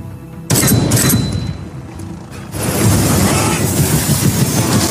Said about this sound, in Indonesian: Seketika helikopter itu terjatuh dan hancur.